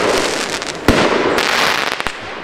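A Pyro Austria Silber Spider 12-shot firework battery crackles and roars loudly and close by, with two sharp, booming shots bursting through the dense crackling.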